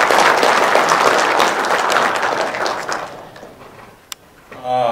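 A crowd at an outdoor press conference applauds in a dense, steady burst of clapping that fades out after about three seconds, leaving near silence and then a voice.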